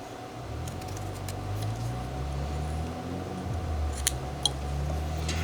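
A knife whittles a lower cut into a small wood block, giving faint scraping and shaving sounds over a low background hum, with a couple of sharp clicks near the end.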